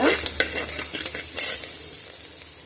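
Onions fry in oil with salt, sizzling steadily while a utensil stirs them in the pan with several scraping, clattering strokes close by. No one talks.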